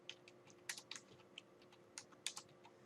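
Quiet, close typing on a computer keyboard, with irregular clusters of light key clicks and short pauses over a faint steady hum.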